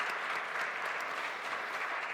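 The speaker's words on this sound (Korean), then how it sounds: "격려의 박수 함께 하도록 하겠습니다" A congregation at a church youth worship service claps in encouragement, a dense, even wash of applause sustained from a moderate distance with no voices over it.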